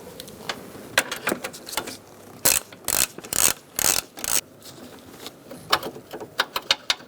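A hand ratchet loosens the battery bracket bolt on a 2002-2006 Honda CR-V, giving close, sharp bursts of rapid clicking in short strokes with brief pauses between them.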